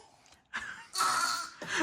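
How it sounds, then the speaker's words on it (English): Toddlers cough on purpose in short, forced bursts. A quiet start leads into two louder rough coughing spells close to the listener. "Stop coughing. Making yourself cough,"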